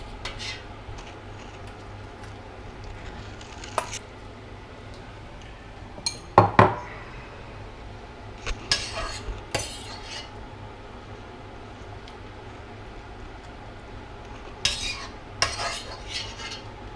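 Metal utensils scrape and clink against a pan while noodles are lifted out, with sharp clatters near the middle and the end over a steady low background hum, close and fairly loud.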